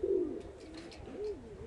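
Pet pigeons coo softly in their home loft, a few low rolling coos close by, quiet and without talk.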